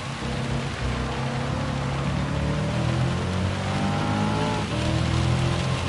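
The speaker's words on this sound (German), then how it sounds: "jetzt regnet es natürlich noch stärker" Heavy rain in the video game Gran Turismo 7 pours down in a dense, constant hiss with a low rumble underneath, steady and unbroken.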